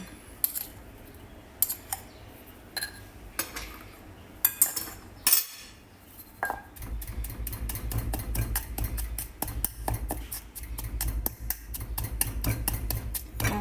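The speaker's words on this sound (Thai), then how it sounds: "ก็หอมหัวแดงนะคะ ลงไปโขกรวมกันตำจนกว่า จะละเอียดเข้าเป็นเนื้อเดียวกันนะคะ" Shallots and shrimp paste with salt pounded in a mortar: a few scattered hard knocks, then a rapid, steady run of close, sharp thuds.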